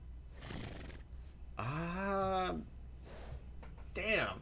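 A horse in Red Dead Redemption 2 gives a loud, drawn-out whinny in the middle of the clip, with softer game sounds and a shorter neigh-like call near the end.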